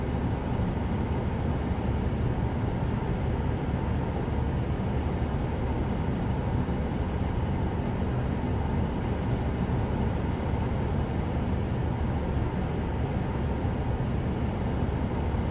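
Single-engine Vision Jet turbofan spooling up in Microsoft Flight Simulator, a steady, loud broadband roar with a faint high whine, running evenly throughout with no talk.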